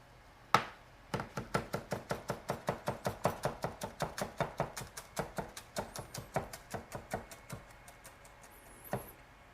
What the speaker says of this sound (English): You can roll it up into like a little bundle and then slice it that way.